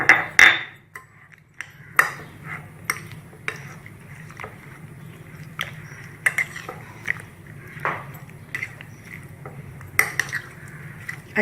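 Chicken pieces are mixed with egg and marinade in a bowl, giving intermittent clinks and scrapes of utensil on dish with soft wet stirring in between, close and without talk.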